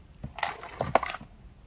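Keys, nails, locks and coins are handled while sorting a storage unit's contents, a few bright metallic clinks and jangles in quick clusters, close and loud against near silence.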